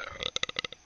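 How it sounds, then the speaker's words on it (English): A gamer's burp, a single gassy eructation broken into a quick run of throaty pulses lasting under a second, close and fairly loud with no talk over it. "The burp."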